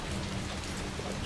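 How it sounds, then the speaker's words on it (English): Heavy rain pours outside in Resident Evil 3, a dense, steady hiss of drops with no gaps, fairly quiet and continuous through the short moment. "With it raining pretty hard outside."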